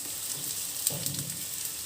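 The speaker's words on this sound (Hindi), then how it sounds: "अब इसमें मैं डाल दूँगी लहसुन" Garlic frying with onions in a pan, a steady close sizzle with a brief burst of stirring partway through, no talking.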